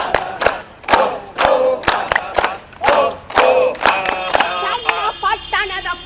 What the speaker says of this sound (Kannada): ನವಿನ ಚಪ್ಪಾಳೆ